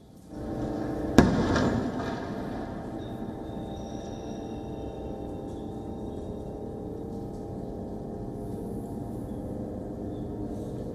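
Night over Gaza City during Israeli airstrikes with flares in the sky: one sharp distant blast early on, followed by a long low rumbling hum and faint background noise, with no voices.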